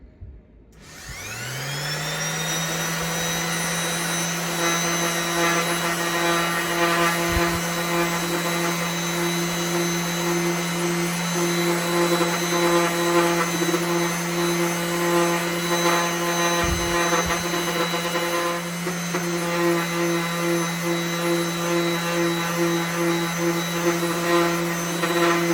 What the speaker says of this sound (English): This is an oscillating sander. I'm going to start with 220 grit.